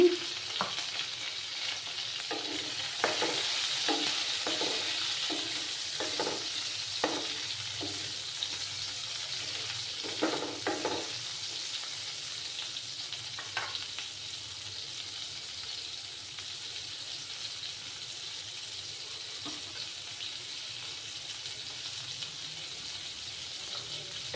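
A tomato goes into a pan of hot oil for a bean vegetable dish and fries with a steady broad sizzle, punctuated in the first half by repeated short stirring scrapes, then settling into a quieter continuous fry.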